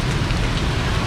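Heavy rain pours steadily at a street food stall, a dense, loud, unbroken hiss of drops drumming on surfaces with no gaps.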